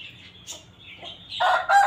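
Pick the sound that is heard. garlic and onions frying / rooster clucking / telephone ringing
rooster clucking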